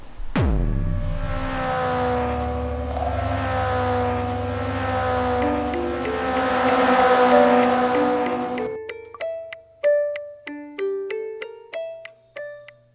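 A Global Mazda MX-5 Cup race car engine in the iRacing game drones with rising and falling pitch for several seconds, then gives way to a short run of chiming musical tones.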